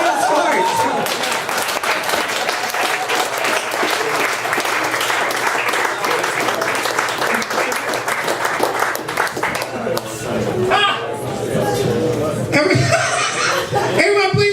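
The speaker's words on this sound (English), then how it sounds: "Everybody, please give a big round of applause for Kris Munger!" Loud, sustained applause from a comedy-club audience after a stand-up comedy set in a competition show, dense clapping mixed with chuckles and scattered laughter, thinning briefly before swelling again.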